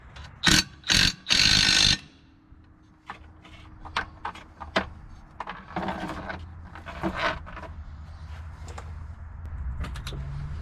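An 18 millimeter bolt being tightened on a Segway Villain clutch: three loud, sharp bursts of tool noise up close, then scattered ratcheting clicks and mechanical rattles over a low background, with no talking.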